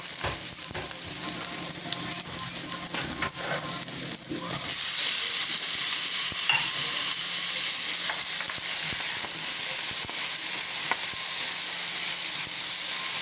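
Onion and tomato sauté in a hot pan for a fish sinigang, giving a steady close sizzle that grows louder and denser partway through, with no talking.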